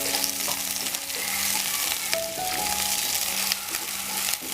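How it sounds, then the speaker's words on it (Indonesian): Onion and galangal sauté in a pan, giving a steady close sizzle of frying with occasional stirring scrapes and a brief faint tonal squeak partway through. "aku tumis sampai harum"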